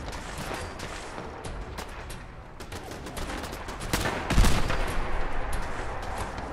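Gunfire crackles in a Fallout-style modded game with NCR armor and a Scar rifle, rapid sharp shots in irregular bursts, and a heavier explosion boom near the middle, all loud and close.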